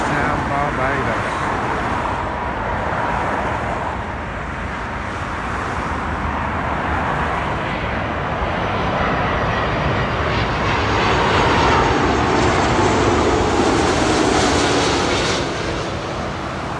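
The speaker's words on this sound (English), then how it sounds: "It's the Virgin Atlantic Airbus A330 coming in from Bridgetown, Barbados." A Virgin Atlantic Airbus A330 lands at Heathrow with a loud, continuous jet roar that fills the whole stretch and swells toward the end.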